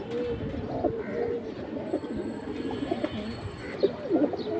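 A pair of pigeons, including silver and other fancy domestic breeds kept in a pigeon line, cooing softly in repeated low throaty phrases, close by, over a faint background murmur.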